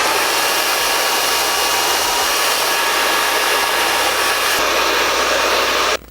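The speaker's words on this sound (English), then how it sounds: "go back through with the blow dryer" A steady, loud whooshing blow dryer drying hair on a lace wig runs continuously up close, a constant airy roar that cuts off abruptly at the end.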